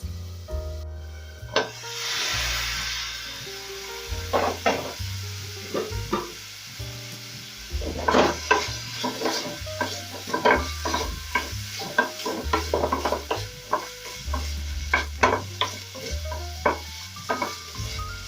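Pork and kale cook in a covered pan with a soft, steady sizzle, broken by frequent short clinks and scraping stirs against the pan, close and with no one talking.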